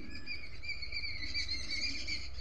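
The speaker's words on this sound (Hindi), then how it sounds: "चिड़ियों की चहचहाहट" Birds chirp and tweet at sunrise near a railway station in Prayagraj on a foggy morning, with steady overlapping high calls and trills continuing throughout over a low background rumble.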